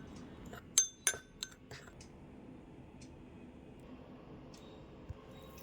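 Fried nimki snacks are tossed with chili powder and black salt in a bowl, giving a few sharp clinks and rattles close by. Softer scraping follows against a quiet background.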